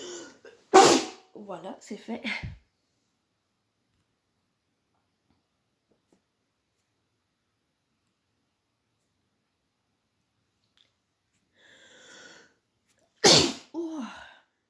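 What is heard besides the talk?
sneeze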